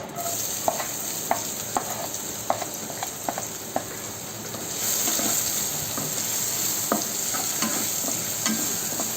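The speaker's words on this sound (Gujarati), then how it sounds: "કાંદા આપણે બરાબર ફ્રાય કરી લેવાના છે" Onions fry in oil for a raw banana curry, giving a continuous close sizzle with regular light stirring clicks and taps, the frying growing denser and louder midway, with no speech over it.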